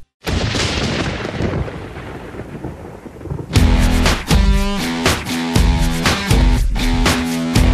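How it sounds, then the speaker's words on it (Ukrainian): A loud rolling rumble of thunder during a thunderstorm fills the first few seconds, then gives way to rhythmic band music with strong beats. "Початок сейшину ознаменував грозовий грім."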